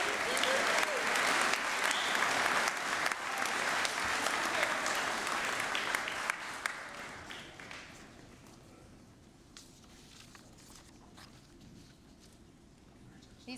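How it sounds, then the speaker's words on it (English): An audience at a boys' school closing convocation applauds loudly, a dense sustained roar of clapping that gradually thins and fades to scattered claps and quiet murmur. "Please give them another round of applause."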